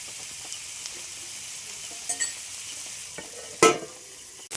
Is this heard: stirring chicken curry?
yes